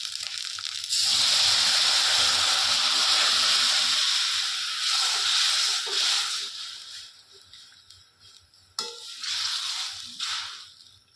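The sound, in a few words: chana dal poured into hot tempering, sizzling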